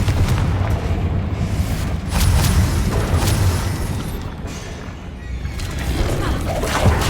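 Confringo fire spells burst in repeated booming blasts during Hogwarts Legacy combat, layered over a dense, continuous roar of game battle noise with no pause across the stretch.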